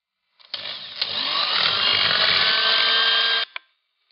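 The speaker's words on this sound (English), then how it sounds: "I'm going to beat it until it's just combined" An electric mixer beats lemon cake batter with eggs and vanilla. A steady, high motor whir starts with brief knocks, runs evenly for about three seconds and then cuts off with a final clack.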